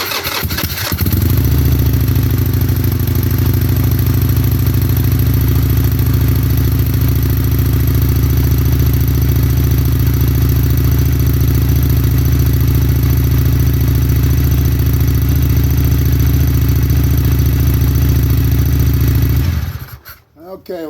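A fuel-injected motorcycle engine cranks and fires, then settles into a loud, steady idle for nearly twenty seconds before cutting off abruptly at the end.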